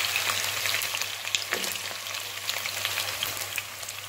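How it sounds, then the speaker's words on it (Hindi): Cut potatoes frying in a pan, a steady dense sizzle with crackling pops that holds evenly throughout, close and fairly loud, with a low constant hum beneath. "2 से 3 मिनट इन्हें फ्राई कर लेना है, हमारे आलू हो जाएंगे फ्राई"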